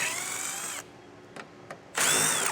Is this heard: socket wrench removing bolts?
yes